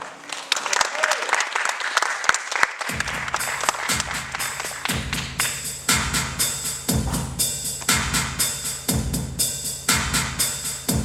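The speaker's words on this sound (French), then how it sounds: "Applaudissements." An audience at a stage show presentation breaks into a dense wash of clapping, and a thumping rhythmic beat soon comes in under the applause and continues steadily to the end.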